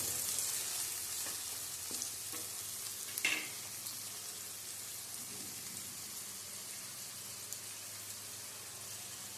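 Chopped onion sizzles steadily in hot oil in a pan for a Gujarati brinjal oro, a soft continuous frying hiss with a few brief scrapes near the start.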